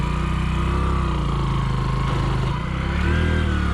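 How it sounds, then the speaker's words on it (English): Motorcycle ridden over an off-road track, its engine buzzing loud and close with a rapid, steady throb and a brief dip before revving back up. "to experience again what it was like to ride this motorcycle"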